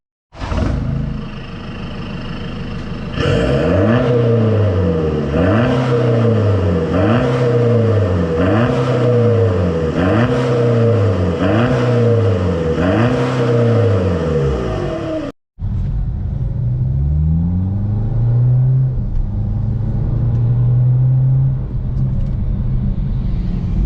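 BMW F32 with a sport exhaust revving hard with a deep, throaty roar, pitch rising and falling in repeated pulls, then a brief cut and another lower-pitched rev, loud and close.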